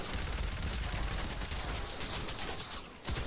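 A boss's shotgun shell shot in the video game Decaying Winter, heard as a dense, loud blast of gunfire noise that fills the moment, then a sharp fresh crack near the end.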